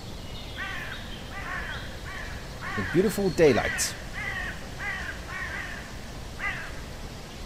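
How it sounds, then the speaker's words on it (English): Birds in a grassy video game world give repeated harsh crow-like caws, several calls in a row at moderate distance, with a louder cluster in the middle and a person talking over them. "The wonderful sounding birds."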